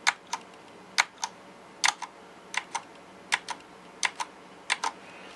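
Cherry MX Brown mechanical keyboard switches are pressed one after another in quick pairs of crisp, close clicks, roughly a dozen keystrokes over five seconds, with no one speaking.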